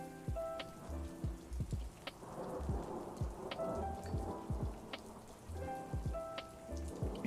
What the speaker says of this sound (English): can you hear like double thunder or double rain noises?